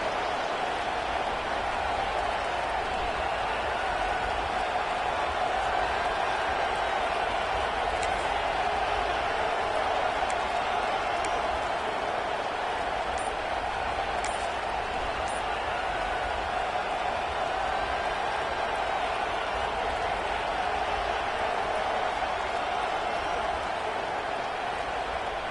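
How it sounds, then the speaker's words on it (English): A dense, roaring stadium crowd in a football video game fills the whole stretch as a loud, constant wall of noise with little variation, no distinct voices standing out. "with this place rocking, the crowd forces a false start"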